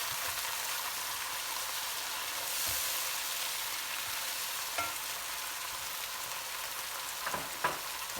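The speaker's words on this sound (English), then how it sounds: "Let the alcohol evaporate from the red wine." Red wine sizzles and bubbles steadily in a hot pan while reducing for Greek soutzoukakia, a soft even hiss with a few light clinks near the end.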